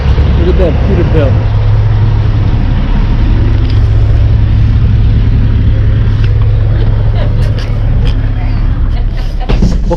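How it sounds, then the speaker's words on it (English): A Peterbilt truck passes on the road with a steady, loud engine and tire roar that holds for the whole stretch, while people talk over it. "Look at that Peterbilt."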